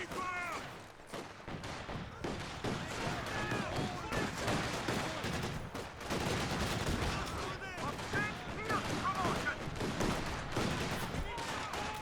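Bursts of DShK heavy machine gun fire and other gunfire crackle through a Company of Heroes 2 battle, dense and continuous under a caster's fast commentary.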